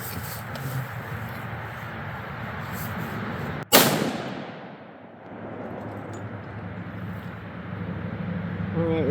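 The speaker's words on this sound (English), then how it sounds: "All right, so this will be our 9th shot." A single loud rifle shot from a Savage Axis chambered in .243 Winchester cracks sharply, then its echo rolls away over an outdoor range while a low steady background hum continues.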